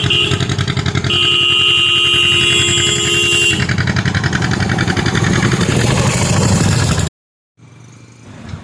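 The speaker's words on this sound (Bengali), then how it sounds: "জেলেরা যন্ত্রচালিত নৌকায় করে মাছ নদীতে" Motorized fishing boat carrying fishermen out on a river for hilsa, its engine a loud, steady, close drone that cuts off abruptly near the end, then returns faintly.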